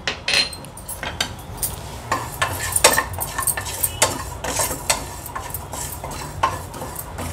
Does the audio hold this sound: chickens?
no